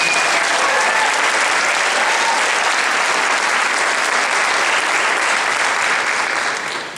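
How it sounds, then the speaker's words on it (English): Concert audience applauding Mr. Conrad: a dense, loud, sustained wash of clapping from a large crowd, holding steady for several seconds before tapering off at the end. "One more round of applause, please, for Mr. Conrad."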